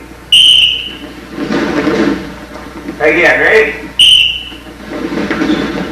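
Two sharp referee-style whistle blasts cut through a wrestling drill, each a short piercing tone roughly four seconds apart, with a coach's voice and scuffling movement between them.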